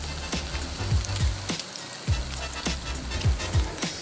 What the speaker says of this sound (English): That sizzle speaks louder than words.